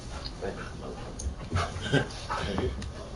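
A dog whimpers and pants in short, soft bursts, with people talking over it at close range.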